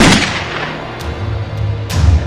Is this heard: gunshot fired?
yes